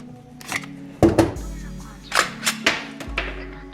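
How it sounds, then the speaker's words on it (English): Metallic clacks and slides from racking the ambidextrous charging handle on a Roni 16-inch Glock 17 carbine conversion kit, several sharp close clicks spread over a few seconds with short pauses between them. "we have an ambidextrous charging handle here with handles on either side of the gun"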